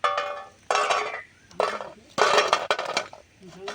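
Crisp fried pasta nimki tipped onto a metal plate in several loud rattling pours, each a bright clattering cascade of pieces striking metal, separated by short pauses.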